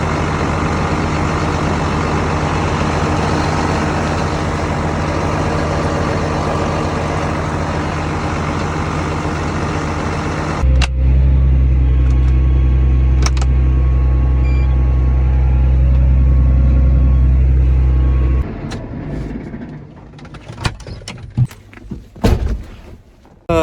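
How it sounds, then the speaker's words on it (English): Farm tractor engine idling while warming up during planting season, a steady loud low rumble that changes to a deeper, heavier drone partway through, then cuts off, leaving clunks, door thunks and scattered mechanical knocks. "While the tractor and all the computers warm up"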